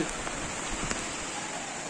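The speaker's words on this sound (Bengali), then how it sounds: "প্রচুর বৃষ্টি হচ্ছে" Heavy rain falls outside in a steady, dense wash of noise that holds level for the whole stretch, alone with no voices.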